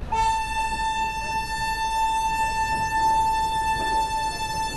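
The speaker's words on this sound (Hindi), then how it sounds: "क्या प्यारा डिपार्चर लिया और क्या प्यारा हॉर्न दिया इसने" Shri Shakti AC Express train pulling out of a station platform, its horn held in a long, loud steady blare with rumbling wheels and engine beneath, close by.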